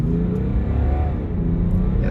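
A 2018 BMW 540d diesel sedan accelerating from low speed with a steady mid-pitched engine drone and a brief dip as it shifts gears, heard from inside the car.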